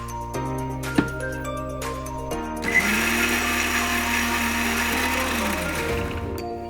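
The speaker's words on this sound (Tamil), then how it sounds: "இதை வந்து ஸ்மூத்தாக அரைச்சிக்கலாம்" A mixer grinder blends cooked dal smooth, starting with short mechanical whirs and clicks, then rising into a loud, sustained grinding whine that winds down at the end.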